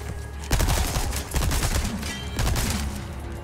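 Bursts of gunfire in Resident Evil 4 Remake, three loud rapid volleys of shots in quick succession with brief gaps between, close and punchy with no talking.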